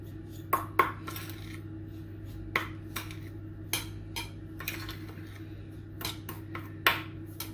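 Apple cheesecake batter mixed in a bowl, with sparse clinks and taps of a utensil against the dish over a low steady hum, several separate knocks spread across the stretch.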